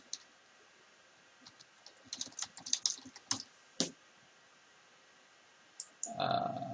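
Keys clack on a computer keyboard in short irregular bursts, close and fairly quiet, with pauses between flurries and a few louder single clicks, then a brief rustle at the end.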